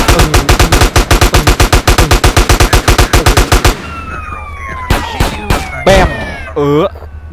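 Rapid automatic gunfire from a GTA-style video game featuring CJ rattles in a long, steady burst of sharp shots, then stops; scattered single bangs and other game noises follow while a voice speaks briefly.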